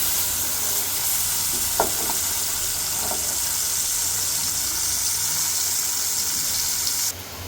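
Shrimp frying in oil in a home kitchen, giving a steady, loud broadband sizzle throughout with a few brief clinks of stirring, and the sizzle drops slightly near the end.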